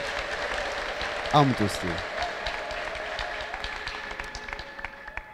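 A church congregation applauds steadily, with a brief rising voice of cheering or ululation near the start and talk mixed in throughout.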